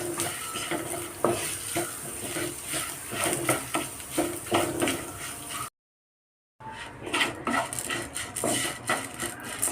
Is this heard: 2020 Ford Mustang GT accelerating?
no